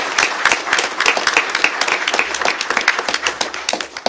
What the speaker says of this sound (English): If you'd all give them a big round of applause.